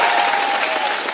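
An audience at a comedy game show breaks into loud, dense applause that holds steady throughout, with no speech on top.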